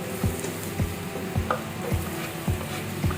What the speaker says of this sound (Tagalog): Siyempre, gigisa na natin yung ating gulay.